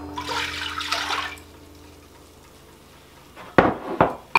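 Apple juice pours into a stainless steel pot while making apple pie filling, a close rushing splash for about a second, then quiet before a few sharp metallic clanks of the pot and utensils.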